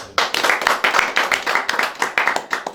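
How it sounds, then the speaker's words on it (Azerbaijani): An audience at a meeting with war veterans claps in a quick, fairly even rhythm of sharp, close hand claps that carries through to the end. "Bir daha səni biz ümumi olaraq alqışlayırıq."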